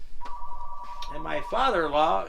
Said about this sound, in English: that's the phone. That answering machine will take it.